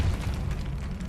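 Depulso spell cast in Hogwarts Legacy inside a tomb, a single deep, rumbling blast that swells and carries on for about a second, loud and close.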